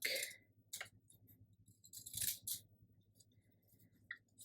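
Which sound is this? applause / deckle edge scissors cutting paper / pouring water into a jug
deckle edge scissors cutting paper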